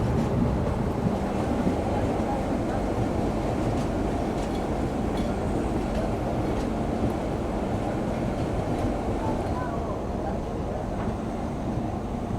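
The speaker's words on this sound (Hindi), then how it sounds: "रात के 12:02 हो रहे हैं और हम लोग क्रॉस कर रहे हैं यलहंका जंक्शन को।" Steady, loud rumble and rattle of the Yesvantpur-Gorakhpur Express heard from on board as it runs through Yelahanka junction at night, a continuous clattering roar with no talk.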